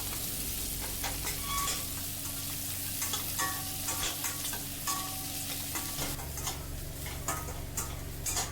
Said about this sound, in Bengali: পেঁয়াজটা লাল হওয়া পর্যন্ত আমি একটুখানি ভেজে নেব।